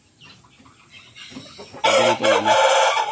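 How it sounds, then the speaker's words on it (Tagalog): Native farm chickens sound close by, with a rooster and hens cackling and clucking loudly in bursts over the second half, after a short stretch of quieter birds and faint background. "may dalawa ako dito na available din mga farmers na native chicken"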